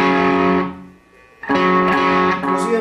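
Electric guitar through the distortion channel of a Dime Amp 100-watt combo, loud sustained distorted chords that fade out briefly, then a hard-attacked chord rings out again and keeps sustaining.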